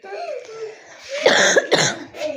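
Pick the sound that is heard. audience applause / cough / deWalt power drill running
cough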